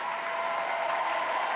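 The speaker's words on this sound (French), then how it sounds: "continuons de les applaudir" An audience at a televised Christmas show applauds young classical music prodigies aged 9 to 16, producing dense, sustained clapping from a large crowd that stays steady and fairly loud throughout.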